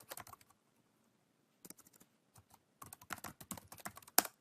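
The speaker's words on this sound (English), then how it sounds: "If I could type here." Short bursts of typing on a computer keyboard, quick clustered key clicks separated by brief pauses, close and fairly quiet with no talking.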